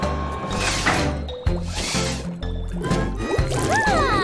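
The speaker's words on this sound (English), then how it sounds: "A good scrub will clear the remaining stains." Scrubbing with soapy water in a children's cartoon about emergency vehicles and car repair: wet squishing, sloshing and gurgling liquid sounds in rhythmic pulses, ending with bright cartoon sound effects over faint music.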